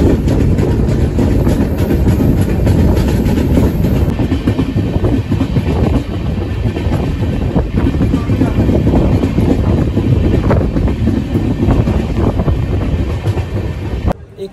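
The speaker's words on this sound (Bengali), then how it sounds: "আমাদের ট্রেন প্রায় 23 মিনিট লেট করে এসে পৌঁছেছে আলুয়াবাড়ি রোড জংশন" The Kanchankanya Express pulls into Aluabari Road Junction with a loud, continuous rumble of wheels and carriages and a faint clickety-clack. Wind buffets the microphone throughout before the noise cuts off abruptly near the end.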